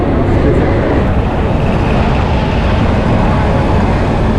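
The 22849 Shalimar–Secunderabad weekly superfast express pulls out of Bhadrak station with a loud, constant, heavy low rumble and roar, heard close with no distinct voices.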